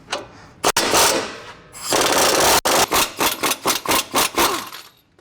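Rapid bursts of an impact wrench loosen the upper control arm bolt on a 2019-or-newer RAM 1500 during a 6-inch lift install; several loud, close hammering rattles come in quick succession, then a run of short pulsed bursts, with no talking.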